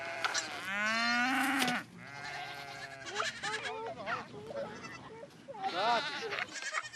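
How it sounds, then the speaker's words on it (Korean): Goats and sheep on the Mongolian steppe bleat loudly and repeatedly close by, with long wavering cries overlapping one another against a low rumbling background. "양과 염소들이 다투어 풀을 찾아갑니다"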